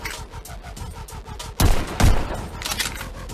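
Gunfire from the VR shooter game Pistol Whip rattles in rapid bursts over a pulsing rhythmic backing, with two louder heavy shots standing out midway, loud and close.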